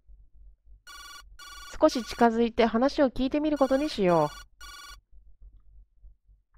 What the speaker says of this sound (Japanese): 電話じゃな。